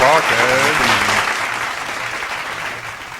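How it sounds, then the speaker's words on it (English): Applause sound effect of many hands clapping, loud at the start and tapering slightly over three seconds, with a voice speaking over it on a podcast intro. "We're going to get the hand claps on that."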